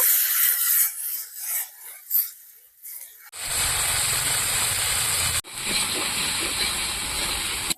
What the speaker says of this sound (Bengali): আদা রসুনটা দু মিনিট ভেজে নেব